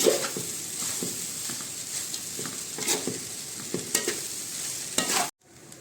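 Chole pulao rice is mixed in a pot with a steady frying sizzle and irregular scraping taps of a spoon against metal. The sound continues close up without talk, then cuts off abruptly.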